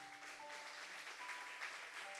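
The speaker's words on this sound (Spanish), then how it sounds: "Dale un aplauso al Señor." Church congregation applauding during a Spanish-language Bible study sermon, a soft, continuous wash of clapping heard at a distance with faint steady tones underneath.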